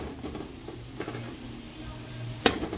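Tomatoes and onions cook in a pot on a high stove while a utensil stirs them, giving soft scraping and faint sizzling, with one sharp clink of metal on the pot near the end.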